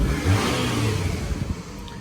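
A 2007 Toyota Camry engine runs steadily up close, a low motor hum with slight revving, no voices over it.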